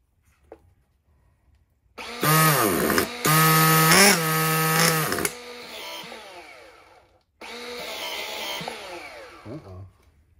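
A Kyosho MP9 nitro RC car engine is cranked by an electric starter: loud whining bursts that start, cut out briefly, resume, then fade to a lower drone before a final spin, with the engine not catching.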